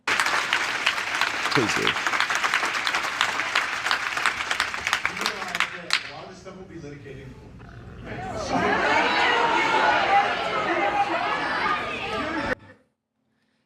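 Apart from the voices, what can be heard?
audience cheering and applauding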